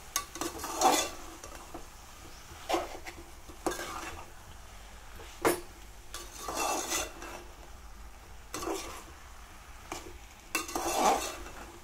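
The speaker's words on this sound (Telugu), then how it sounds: "మంచిగా బాగా కలుపుకోవాలండి" A spoon stirs a ridge gourd and potato curry in a pan, giving soft scraping strokes and light clinks at irregular intervals over a faint sizzle, with no voices.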